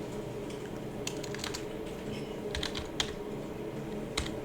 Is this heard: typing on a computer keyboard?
yes